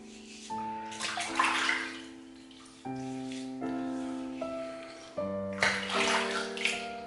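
Tap water runs into a basin in a bathroom while the face is wetted for a shave, coming in three close bursts of splashing flow with short pauses between.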